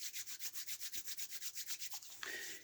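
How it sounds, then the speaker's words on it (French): Hands rubbed briskly together with a few drops of almond oil, a fast regular swishing of around twenty close strokes that ends in a brief slide. "On prend quelques petites gouttes d'huile et on frotte les mains."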